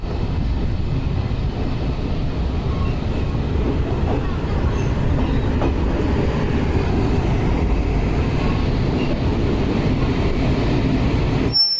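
A passenger train on the Visakhapatnam to Varanasi route runs along the rails with a loud, steady rumble and rattle heard from inside, with occasional faint squeals.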